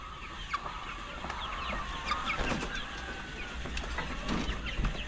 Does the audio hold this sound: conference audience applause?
no